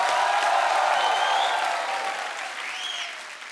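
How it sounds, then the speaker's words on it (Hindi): A studio audience at a Hindi television comedy show claps loudly for Akshay Kumar, a dense burst of applause that slowly fades out. "अक्षय पाजी के लिए जोरदार तालियां हो जाए एक बार।"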